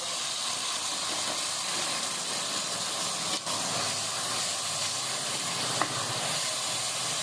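Sliced onions and thick green chillies fry with ridge gourd in a pan on high heat, giving a loud, continuous close hiss and sizzle with barely any change, broken by one faint click.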